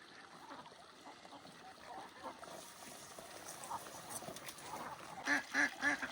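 Ducks in a pen quack faintly at first, then several louder quacks come in quick succession near the end, with splashy water sounds in the background.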